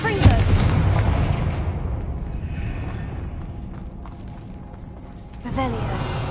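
Confringo fire spell exploding in Hogwarts Legacy, a loud booming blast with a rumbling tail that slowly fades, followed by a second burst near the end.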